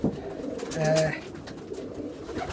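A 2017 blue cock pigeon coos close by, a soft rounded call swelling near the middle, with a voice talking over parts of it.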